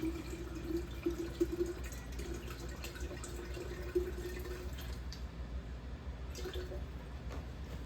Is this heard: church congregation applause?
no